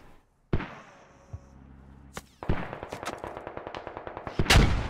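Gunfire in the military shooter game Squad: a sharp single shot, then a rapid burst of many close, loud rounds in quick rhythm, ending in a heavier blast.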